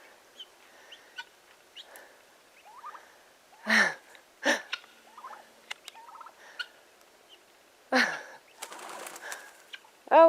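Turkeys gobble in a snowy yard, several loud bursts close by and scattered between quieter calls, chirps and a brief flutter of wings, with no talk.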